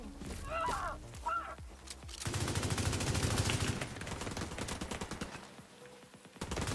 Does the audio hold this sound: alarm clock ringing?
no